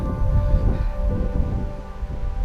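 Strong wind roaring steadily at a hydroelectric dam near Thousand Island Lake, a dense low rumble of gusts buffeting close by with no talking.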